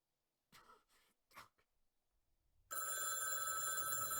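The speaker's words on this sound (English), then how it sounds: "The phone is ringing!" Telephone ringing in Dark Side of the Moon video game, a loud continuous bell ring that bursts in after a few faint breathy noises and holds steady to the end.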